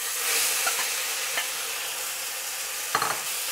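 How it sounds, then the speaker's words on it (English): Chicken sears in hot oil in a wok for a stir fry, giving a steady, loud broadband sizzle throughout, with a few brief scraping clicks of a utensil spreading the meat partway through and near the end. "So I'm gonna add the oil. And this is just to sear the chicken for now"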